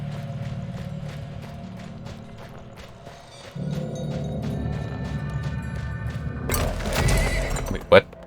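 Horse from the video game Weird West whinnying loudly near the end, with hoof clip-clops and game mechanisms earlier amid background music and a voice talking.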